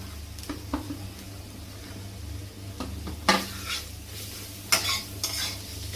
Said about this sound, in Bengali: একটু হলুদ দিয়ে নিলাম নেড়ে চেড়ে ঘেটে ঘ করে দেবো